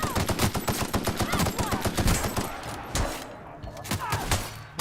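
Rapid bursts from an assault rifle in the video game The Outer Worlds, loud and close, a fast rhythmic stream of shots that breaks off into scattered thuds and quieter gaps.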